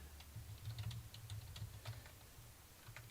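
Quiet, rapid keystrokes on a computer keyboard, a close, faint, irregular patter of clicks over a low background hum.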